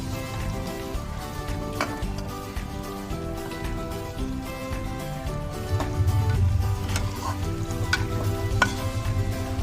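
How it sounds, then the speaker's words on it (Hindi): Carrots and potatoes frying lightly in oil for Chinese rice, a steady dense sizzle with stirring scrapes throughout, growing slightly louder toward the end, close and without speech. "हल्का सा हम भूनेंगे"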